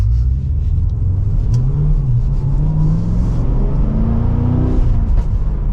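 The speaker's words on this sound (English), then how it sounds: "we'll give it one last acceleration for today's video. And from first gear, here we go." A 2024 Cadillac CT5-V Blackwing pulls hard from first gear, its engine and exhaust making a loud, steady rumble that builds as it accelerates, heard close from inside the car.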